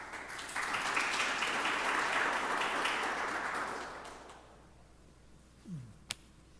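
Audience applause at a church history conference session, a dense steady clapping from a crowd that holds for about four seconds, then fades away, followed by a couple of faint thumps and a single sharp tap in near silence.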